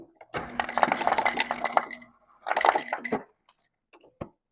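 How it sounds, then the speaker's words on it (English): Ice cubes dropped into a drinking cup, giving two short bursts of clinking and rattling about a second apart, followed by a few faint taps; close and moderately loud, with no talk. "I think I'm going to put some ice in it now"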